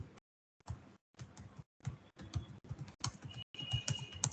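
Java code is tapped out on a computer keyboard in quick clusters of crisp, close keystrokes separated by short silent pauses, with no talking.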